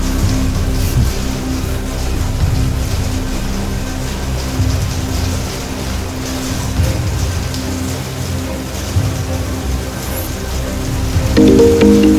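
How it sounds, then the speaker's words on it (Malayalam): Steady rain falls in a continuous dense wash with no breaks. A low rumble sits underneath, and a brief tonal hum rises near the end. "മഴയല്ലേ"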